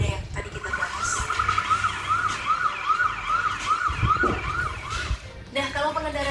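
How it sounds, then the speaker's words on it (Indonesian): An ambulance siren cycles rapidly and loudly through repeated rising-and-falling yelps as it moves through traffic on a road in Germany, with engine and road noise beneath and a brief burst of other sound near the end. "Dengan sirine yang udah mengaum-ngaum"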